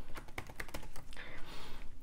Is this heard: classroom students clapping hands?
no